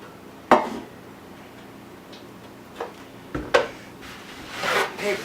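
Old seasoned metal bread pans clank and tick as they are handled and oiled with vegetable oil, a few sharp knocks and clatters spaced over quiet room noise, with a soft rustle near the end.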